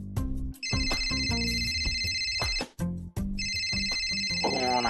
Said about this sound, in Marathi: अरे यार फोन वाजतोय यार.